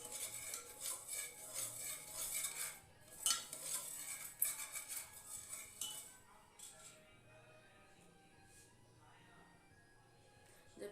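Metal utensil scraping and clinking against a pot while stirring daliya porridge in a home kitchen, in a steady rhythm of clinks that fades to a quieter simmer after several seconds.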